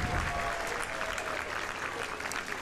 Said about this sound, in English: a big round of applause for that performance